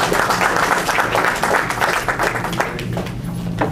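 Audience applause welcoming Dr. Daniels to the stage at a North Carolina A&T graduation ceremony, steady dense clapping from a crowd that holds through the whole stretch and fades slightly near the end.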